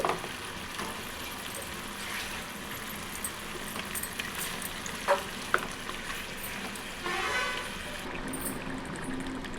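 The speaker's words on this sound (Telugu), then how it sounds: "ఈ మసాలా మొత్తం ముక్కలకి కలిసేలా కలుపుకోండి" A spoon stirring chicken fry coated in masala in a hot pan, with a steady sizzle under soft scraping and a few louder clinks, close and continuous.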